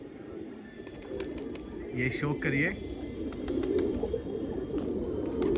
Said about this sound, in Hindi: ये सारे के सारे नर कबूतर खुले हुए हैं